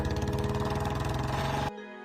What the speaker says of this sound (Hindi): तभी एक बाइक तेज आवाज के साथ आकर रुकती है।